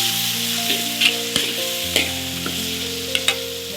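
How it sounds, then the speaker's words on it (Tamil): Tomatoes fry in a pan with a steady, close sizzle, broken by occasional stirring scrapes and taps, for ghee rice and chicken sambal. "தக்காளி போட்டு நல்லா வதக்கிக்கணும்."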